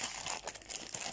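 Bubble-wrap mailer package being handled during an unboxing, with close, crisp crinkling and rustling in short irregular bursts, no talking.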